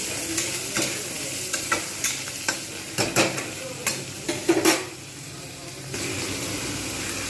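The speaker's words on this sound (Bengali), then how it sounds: "আলুগুলো আমি কিন্তু খুব একদম ভালোভাবে ভেজে নেবো এতে একটু লবণ দেবো আর হলুদ দেবো" Potato pieces fry in a pan with salt and turmeric, a close sizzle broken by a series of sharp scraping stirs, then settling into a steadier hiss.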